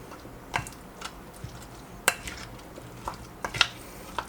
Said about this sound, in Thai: ตรงนี้เราจะต้องใช้เวลาในการคลุกนิดนึงครับเพราะว่าถ้วยเราเล็ก